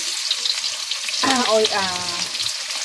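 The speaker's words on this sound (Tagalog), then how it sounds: "Igigisa na natin lahat ng sahog." Ingredients for sotanghon guisado sauté in a hot pan with a steady, close sizzle throughout, plus a brief squeaky tonal scrape partway through as they are moved around.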